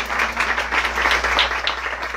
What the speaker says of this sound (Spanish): Fuerte el aplauso al Espíritu Santo otra vez más